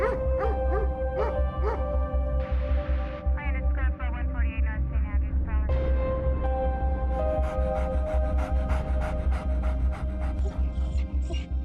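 A dog that has given birth to a litter of puppies barks in quick bursts and whimpers in high, wavering whines, close and loud, with panting between the sounds.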